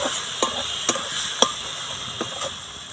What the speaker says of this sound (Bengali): জিরে গুঁড়ো, ধনে গুঁড়ো, এবার নাড়াচাড়া করে নেব।